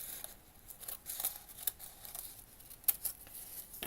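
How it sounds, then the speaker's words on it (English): Scissors cutting paper by eye for a miniature cat cafe room box, a few quiet crisp snips and faint rustling, close and soft with no talking. "Okay, so I'm just gonna cut up here by eye."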